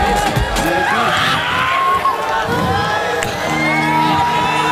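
A live crowd at a concert in Bhauwal cheers and whoops, dense and close, with shouting voices mixed in and scattered claps.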